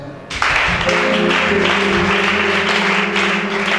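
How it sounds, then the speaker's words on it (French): A church congregation at a worship service breaks into applause, a sudden dense burst of clapping that stays loud and continuous, with some voices and a sustained tone mixed in. "Acclamez chacun"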